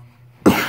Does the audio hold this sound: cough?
yes